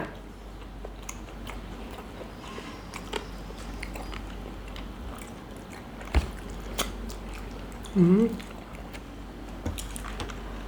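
Close biting and chewing of Thai waterfall noodle soup, soft wet mouth sounds over a steady low background hum, with occasional ticks and a brief louder slurp or squish near the end.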